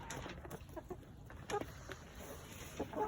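A backyard chicken eats chopped fruit and vegetables such as banana and cucumber, with soft clucks and quick pecking sounds close by over a low outdoor background.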